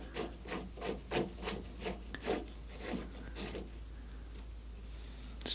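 A bolt is screwed by hand onto a model aircraft propeller hub washer, giving a rhythmic series of faint, close rasping rubs that slow and fade toward the end.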